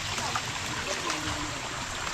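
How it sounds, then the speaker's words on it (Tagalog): A mountain river flowing over rocks, a steady close rushing and trickling wash of water that holds an even level throughout, with no voices over it. "Tayo sa ilog."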